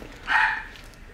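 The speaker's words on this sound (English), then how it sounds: "That's the baby, the puppy. She's not used to, well, she's actually really good in the crate now, but only if she can hear us, she'll bark." A puppy shut in a crate gives one short, close, high-pitched bark, standing out alone against a quiet indoor background.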